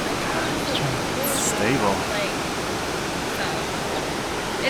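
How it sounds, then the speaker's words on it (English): Waterfalls roar with steady, dense rushing water, loud and continuous throughout, while a voice speaks briefly over the torrent. "Check out this rushing water."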